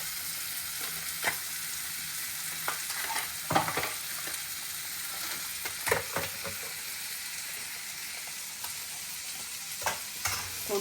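Pav bhaji masala being stirred in a frying pan for a pav bhaji sandwich, with a steady sizzle and irregular scraping spoon strokes, close and fairly loud, no voices.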